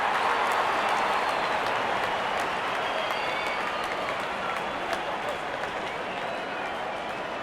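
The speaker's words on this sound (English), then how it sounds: "The crowd is enjoying every bit of this action." Constant crowd applause and cheering fill a cricket stadium in the video game Real Cricket 18 during an India vs Nepal match, a dense, even roar of clapping with faint distant commentary beneath.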